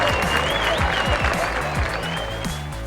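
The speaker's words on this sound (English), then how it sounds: "Let's give them a cheer." A race-event crowd applauds and cheers, dense continuous clapping with a few voices calling out under a steady background hum, loud and close throughout.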